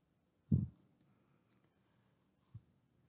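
Two computer mouse clicks while saving a file in utility configuration software: one sharp, fairly loud click, then a softer click about two seconds later, in a quiet room with no talking.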